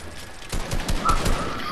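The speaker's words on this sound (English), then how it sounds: "Who's shooting?" Rapid bursts of gunfire crack out in quick succession during an outdoor game of hide and seek. The shots are moderately loud and closely spaced over about a second, with no talking.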